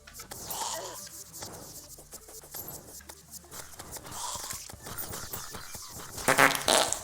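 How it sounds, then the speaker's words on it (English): Comedic fart sound effects from the video game Terraria, a series of short, sputtering bursts of varying length, with a louder flurry near the end and little else underneath. "That fart made me do a jump."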